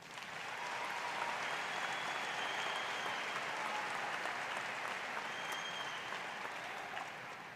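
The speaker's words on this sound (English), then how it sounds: "Can we give them another round of applause?" Steady applause from a large crowd at an Indiana University 2018 commencement ceremony, a broad continuous roar of clapping that swells in and holds evenly, heard from some distance in a big hall.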